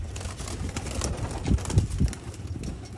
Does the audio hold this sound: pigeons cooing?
yes